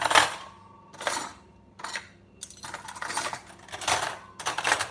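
Metal cutlery clatters and clinks in a series of bursts as knives, forks and spoons are dropped and sorted into a kitchen drawer, close and fairly loud, with no talk over it.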